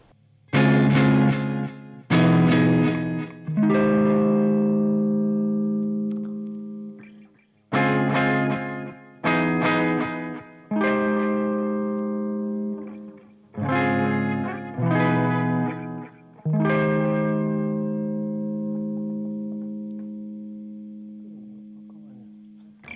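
Electric guitar played through a pedalboard, its stereo output split into two DI boxes feeding the microphone inputs of an audio interface; clean, loud sustained chords and notes in repeated strummed phrases with effects tails, no background noise.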